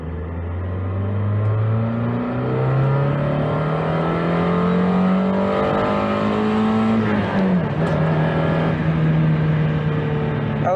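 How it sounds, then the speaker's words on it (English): A Mazda Miata's engine revs steadily through the gears while driving, a close, continuous rising drone that dips briefly at a shift and then climbs again, with no talking. "I feel a lot more comfortable revving it out now that it's had a nice oil change."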